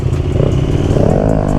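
A motorcycle rides along, its engine a loud, steady, close-up drone with rattling clatter and no talking.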